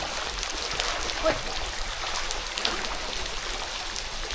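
Water drips from overhanging tree roots into a pool at Jalapão, a steady patter of many drops that sounds like rain, with a voice talking faintly underneath.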